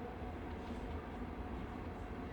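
A night train running through the Alps along the edge of a ravine, its low, steady rumble and rolling wheel noise filling the scene at an even, moderate level with no voices.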